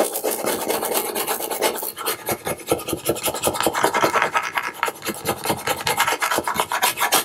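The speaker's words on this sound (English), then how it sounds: "Now I'm going to take my burnishing tool" A burnishing tool rubbed hard over craft transfer tape on a sign: rapid, rhythmic rasping strokes, loud and close, repeating back and forth without a break and with no voice.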